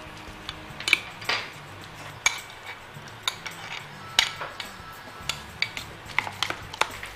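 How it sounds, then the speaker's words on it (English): Cream and white fish puree being mixed together in a bowl at a chef's culinary workshop, heard as light, irregular clinks and taps of a utensil against the dish, close and fairly quiet with no talking. "I'm going to mix all that together"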